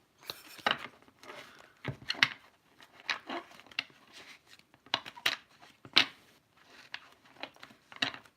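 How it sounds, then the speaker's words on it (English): Soft, crisp riffling and tapping bursts, repeated several times with pauses between, close and fairly quiet. "I like these cards, but they're a pain to shuffle."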